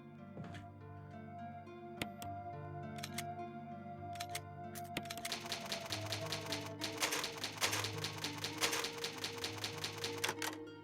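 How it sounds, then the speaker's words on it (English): Typewriter save sound from the Resident Evil Remake video game: a run of crisp mechanical key clacks and taps over a sustained musical drone, growing busier and denser in the second half, with no talking. "Love that typewriter sound."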